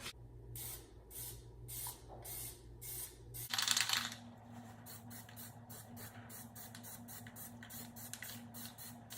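Plasti Dip sprays from an aerosol can onto a car wheel for a third coat, in short repeated hissing bursts with a louder sustained spray in the middle, close and clear.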